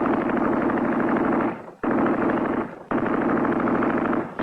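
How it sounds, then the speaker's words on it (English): Machine gun fire from a tank turret at Camp Petawawa, three long sustained bursts of rapid automatic fire with brief pauses between them, loud and close, no voices. "Another important weapon carried by these modern steeds is the machine gun."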